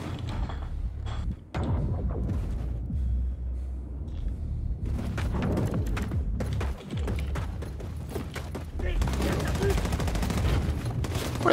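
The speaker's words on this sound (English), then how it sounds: "Where the flip are they shooting from?" Gunfire in Wolfenstein, dense bursts of rapid shots and heavy fusillades coming in clusters, with loud mechanical thuds and a player talking over the combat.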